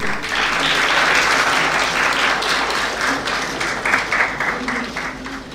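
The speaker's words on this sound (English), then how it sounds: "a huge round of applause for our guest" Sustained audience applause fills a hall at a university marketing challenge event, dense and steady clapping from a large crowd, fairly loud and continuous throughout, with no speech over it.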